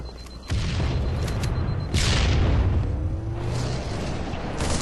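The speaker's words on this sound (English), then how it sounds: "Grenades can be used as tools of suppression, which is why I threw that grenade." A grenade goes off in an online shooter game match, a loud boom amid ongoing rumbling battle noise, with a second blast-like surge partway through.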